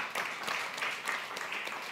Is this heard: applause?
yes